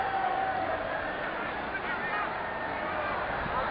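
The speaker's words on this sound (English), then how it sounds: "Huge cheers for that first touch by Ozil." Stadium crowd at a 2019 Arsenal club friendly against Colorado Rapids roaring steadily for Ozil's first touch, a sustained distant wall of cheering with a faint honking horn, broadcast-muffled.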